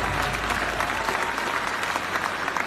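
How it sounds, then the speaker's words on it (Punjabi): Audience claps together in a loud, dense burst of applause that continues evenly, close and sustained, with no one talking over it. "ਇੱਕ ਤਾੜੀ ਇਹ ਮੁੰਡੇ ਦੇ ਨਾਂ ਤੇ ਮਾਰਿਓ"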